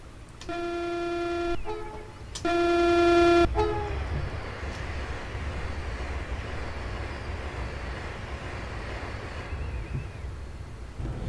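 A Pendolino train in the game Train Simulator 2020 sounds two long, tonal horn blasts, then rushes past with a sustained, steady rumble of rolling noise that holds loud to the end, with no talk.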